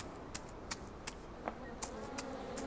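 A soft, steady buzzing of bees around hives in the video game Farm Together hums in the background, with faint regular clicks and ticks scattered through it.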